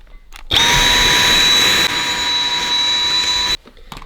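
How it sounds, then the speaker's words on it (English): A Dyson vacuum cleaner switches on abruptly, roars loudly and steadily with a high whine for about three seconds, then cuts off. "Would probably be easier to use a vacuum cleaner."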